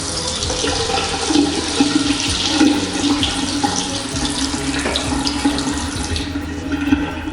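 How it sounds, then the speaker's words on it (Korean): Water pours steadily from a bathroom sink faucet in a large apartment, a continuous close splashing rush with no one talking. "물 나오는 거 한번 볼까요?"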